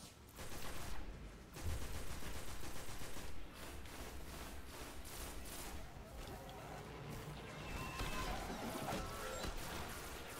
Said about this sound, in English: Could have died there from that explosion